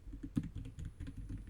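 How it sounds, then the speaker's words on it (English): Quick, light keystrokes tap out on a computer keyboard in an irregular typing rhythm, close and fairly quiet, with no voices. "I'm typing it."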